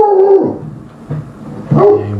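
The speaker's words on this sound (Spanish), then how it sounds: "Y hay un perro, uno de los perros." A dog gives two short barks a little over a second apart, loud and close, with quiet between them.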